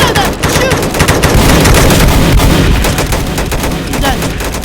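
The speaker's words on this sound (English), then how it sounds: "We have to shoot at them." Rapid video game gunfire, loud and dense bursts of automatic shots crackling one after another at close range, with brief voices mixed in.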